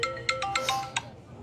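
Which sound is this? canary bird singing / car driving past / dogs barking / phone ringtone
phone ringtone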